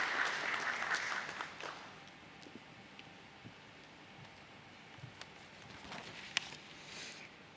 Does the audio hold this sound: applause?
yes